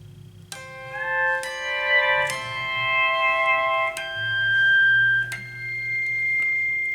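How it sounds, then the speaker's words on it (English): Pedal steel guitar chimes struck with a plastic thumbpick, a series of bright bell-like harmonic notes at an unhurried pace, each ringing and decaying, close and moderately loud with a low hum underneath. "And I'll do it again with the plastic pick."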